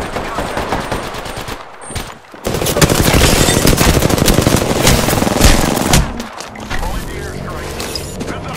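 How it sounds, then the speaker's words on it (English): Rapid automatic gunfire from an Apex Legends firefight, a loud sustained burst rattling for several seconds after a brief lull, with a voice talking at times. "Getting shot at. Opening fire."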